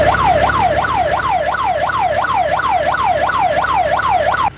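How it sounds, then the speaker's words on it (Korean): A Korean police car siren wails loudly with a fast, regular yelp, its pitch rising and falling about twice a second and cutting off abruptly at the end. "이것은 바로 경찰음이에요."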